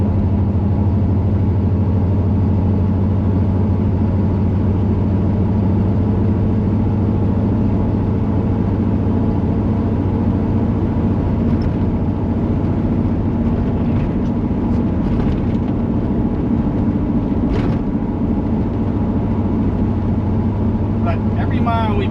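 A 1977 Corvette engine drones steadily from inside the car while driving, a loud low rumble that holds throughout as a person talks over it.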